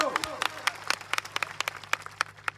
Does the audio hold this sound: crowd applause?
yes